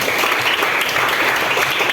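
Students clapping together in a classroom during a physical education lesson, a brief, loud, dense burst of applause filling the room.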